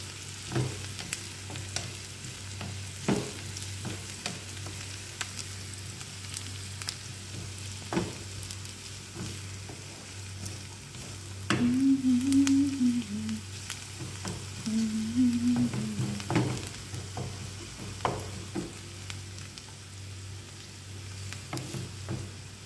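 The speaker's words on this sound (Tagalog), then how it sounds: "Luto ako ng tuna. Para may ulam kaming tatlo. Tapos, ayan, bawang." Garlic sizzles in hot oil in a pan for a canned tuna dish, a soft continuous frying crackle with occasional stirring clinks and scrapes, recorded close and fairly quiet.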